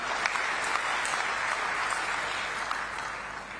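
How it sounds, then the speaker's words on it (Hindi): Loud, sustained applause from a large crowd at a PM Kisan Samman Nidhi farmers' rally in Raipur, dense rapid clapping that fades slightly toward the end. "हाँ जोरदार तालियां"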